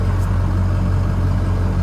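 A 1986 Ford bullnose single-cab truck fitted with a swapped 6.0 Powerstroke diesel idles steadily with a low, constant rumble, close and continuous, with no voices.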